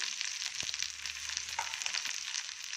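Spice powder frying with eggplant in a pan for a dry eggplant dish, giving a steady, close hiss of sizzling with occasional soft scrapes and a dull knock.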